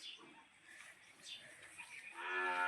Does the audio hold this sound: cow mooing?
yes